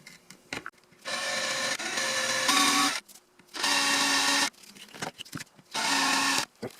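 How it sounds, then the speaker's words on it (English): A power drill whines in three separate bursts, drilling out a rivet on a 2003 Volkswagen Beetle door lock assembly, each burst lasting about a second or two, with short quiet gaps and faint handling noises between them. "We're going to drill out this rivet"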